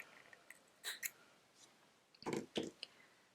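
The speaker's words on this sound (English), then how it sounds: "Snip off your yarn tail" Scissors snip off a yarn tail on a crocheted beginner bunny's arm: two quick pairs of crisp snips, close and quiet, with a soft pause between them and no talking.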